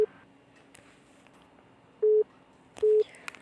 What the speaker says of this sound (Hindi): शायद अविनाश की कॉल आ रही है।